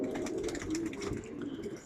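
Flying pigeons coo in a soft, continuous murmur close by, with a few brief chirps mixed in and no talking.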